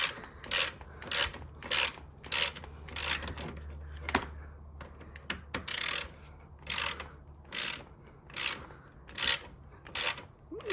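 A ratchet undoing T30 Torx bolts on the front bumper of a 2013 Mini Cooper S R56, rapid clicking bursts repeating in a regular rhythm, close and moderately loud, with no speech.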